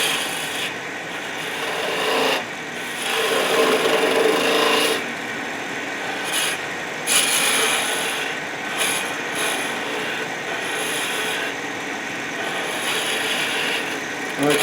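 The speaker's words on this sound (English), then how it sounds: "This is spindle gouge." A spindle gouge cuts spinning wood on a lathe with a continuous rough rasping shave that swells and eases as the tool rolls across the piece. It sounds close and fairly loud, with no talk over it.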